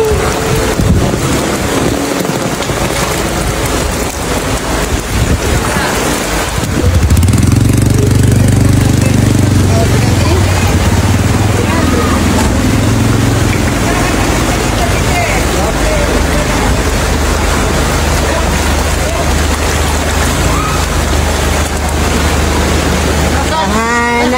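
Typhoon Kristine floodwater rising in a Philippine neighborhood, with loud gusting wind buffeting the microphone and churning, rushing water throughout, and a voice briefly exclaiming near the start.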